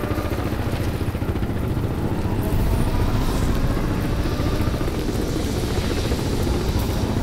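Helicopter from the video game Crysis 3, a loud, steady rotor thrum and engine roar filling the whole stretch with no pauses.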